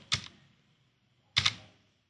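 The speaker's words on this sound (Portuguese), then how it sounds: "nós podemos apertar a barra de espaço do nosso teclado para fechar o desenho" A computer keyboard's space bar is pressed twice, each a crisp, close plastic click about a second and a quarter apart, in an otherwise quiet room.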